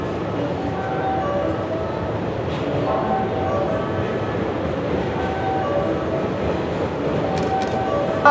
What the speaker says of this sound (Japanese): 団体専用列車が到着いたします。